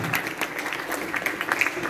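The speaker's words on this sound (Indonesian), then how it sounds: "tepuk tangan" A class claps for a couple of seconds, a dense patter of many hands at moderate loudness without voices on top.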